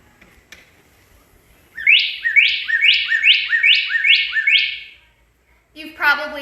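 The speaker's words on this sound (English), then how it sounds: "I'm going to play the song of our state bird, the northern cardinal" A recorded northern cardinal song plays: a clear series of seven identical slurred whistles in a steady rhythm, followed by a person starting to speak.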